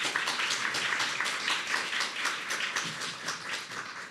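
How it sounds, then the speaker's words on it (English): Conference audience applause on a cold morning, a dense, steady wash of many hands clapping at moderate loudness throughout, with no voices over it. "Give yourselves a round of applause."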